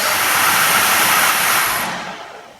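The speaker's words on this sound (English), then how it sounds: "Perfect, we have a working blower motor." A Peugeot 205 GTI 1.9 heater blower motor spins up on a test battery, giving a loud, steady whooshing whir that holds for about two seconds before winding down and fading.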